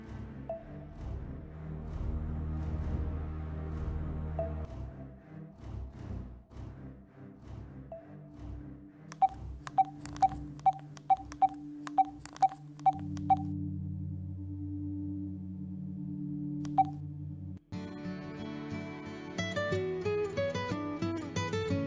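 A quick string of short electronic telephone dialing beeps over a low droning background, then a steadier layered tone takes over.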